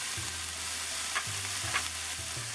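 Chicken lo mein is stirred and fried in a pan, Trini Chinese style. A soft, steady sizzle runs under a few light utensil scrapes, quiet and close, with no talking.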